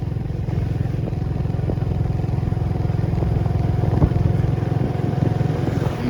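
Motorcycles and cars idle and creep in a traffic jam on a road, a continuous loud engine drone with faint clattering and occasional knocks, no clear talking.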